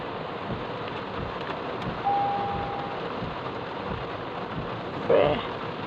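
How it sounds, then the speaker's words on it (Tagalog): Steady rainfall outdoors, a constant wash of patter with a brief whistle-like tone midway and a short bright burst near the end, with no clear talk. "So, eto, pinapatigil ko muna yung ulan."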